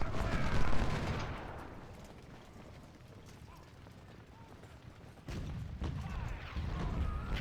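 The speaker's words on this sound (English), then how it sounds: "They're firing at my command unit, which is exposed." Gunfire in a Union Civil War strategy game as troops fire on an exposed command unit, with scattered shots and a dense volley bursting in near the end over a steady battlefield rumble.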